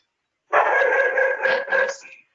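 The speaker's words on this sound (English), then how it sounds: "There's my dog." A loud, close dog gives a sustained, strained howling bark lasting under two seconds against an otherwise silent room.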